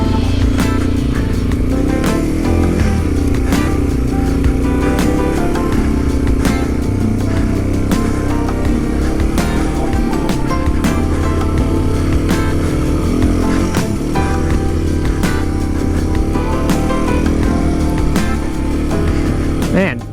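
A Yamaha TW200 motorcycle rides through about a foot of deep snow after a big storm, its engine droning loud and close throughout with steady throttle, with wind and jostling noise on top.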